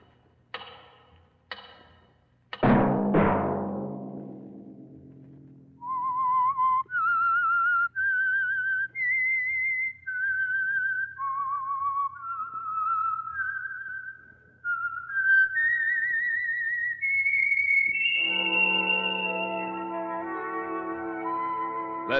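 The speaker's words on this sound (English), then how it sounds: "Let that whistle be your signal for the Signal Oil program, The Whistler" Signature whistled tune of the 1950 radio mystery show The Whistler, a lone clear whistle tracing a slow eerie melody after a few chime-like strikes, followed by orchestral chords.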